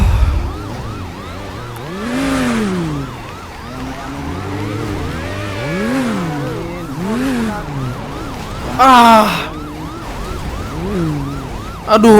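Police car siren in a video game, a loud wailing rise-and-fall that cycles repeatedly and overlaps with a second siren, close and dominant with a brief harsher burst near the end.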